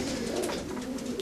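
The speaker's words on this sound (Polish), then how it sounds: "To są gołębie roczne." Racing pigeons cooing steadily in a loft, with yearling birds sitting on eggs; soft layered coos fill the space continuously at close range, with no speech.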